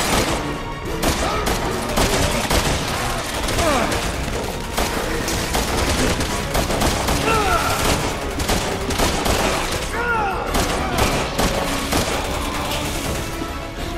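Dense video game gunfire in Resident Evil 6, rapid overlapping shots and bursts continuing loudly without letup, with occasional heavier impacts.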